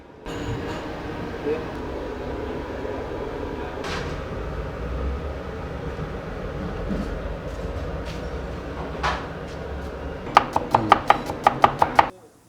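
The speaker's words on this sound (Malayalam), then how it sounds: "നമ്മൾ ഹോട്ടലിൻ്റെ കിച്ചണിലാണ്. ഓരോ പണികൾ ഇവിടെ നടന്നുകൊണ്ടിരിക്കുകയാണ്." Food being chopped in a busy Kerala hotel kitchen where biryani, kadai chicken and beef curry are being prepared, with a steady kitchen din and a quick burst of sharp knife strikes near the end.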